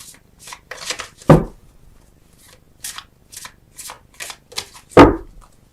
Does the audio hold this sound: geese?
no